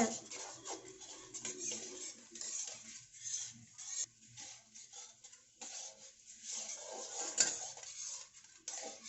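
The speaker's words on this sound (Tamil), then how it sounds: "இது நல்லா மெல்ட் ஆகுற வரைக்கும் மிக்ஸ் பண்ணுங்க." Jaggery and water are stirred in a pan until melted, with repeated scraping and clinking of a spoon against the metal and a faint sizzle, close up and uneven in rhythm, while a voice speaks intermittently.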